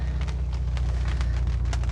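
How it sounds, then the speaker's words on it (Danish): Light rain falling on a summer evening outdoors, a soft continuous patter with scattered drops over a steady low rumble, no voices. "Selvom det regner lidt."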